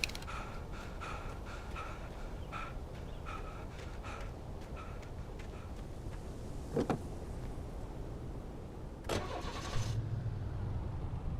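Cars approaching in the video game Alan Wake: a steady engine drone beneath a run of rhythmic ticking, with a couple of brief louder bursts near the end.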